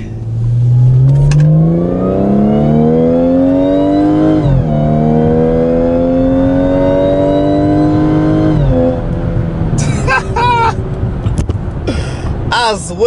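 A truck engine revs loudly and close at a small-town cars and coffee meet, pitch climbing steadily then dropping and climbing again, followed by rougher bursts of engine and exhaust crackle toward the end.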